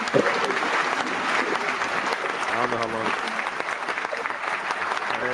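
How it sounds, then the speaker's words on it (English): Canned applause sound effect triggered from a stream button: steady crowd clapping and cheering throughout, with someone talking over it. "Give you applause, Mark."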